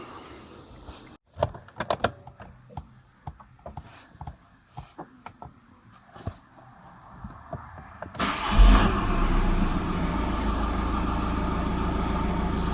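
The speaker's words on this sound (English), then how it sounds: "let's go start the engine and see if there's any leaks" A 2.0 TDI diesel engine in an Audi A3 being started: scattered clicks and a door or window thump, then the starter catches and the engine roars into a loud, steady idle close by.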